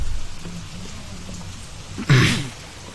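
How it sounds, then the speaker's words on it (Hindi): Steady rain patters under a brief, louder rumbling burst near the end, as a drama scene in the rain unfolds with no talking. "फिर से बारिश शुरू हो गई।"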